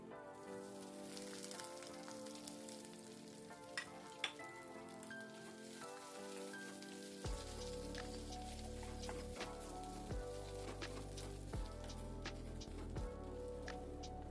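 Boiled potato drops into hot oil tempered with cumin, green chili, curry leaves and grated ginger, giving a faint sizzle under prominent background music throughout.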